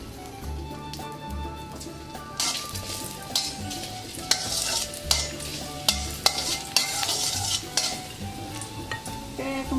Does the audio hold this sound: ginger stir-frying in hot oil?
yes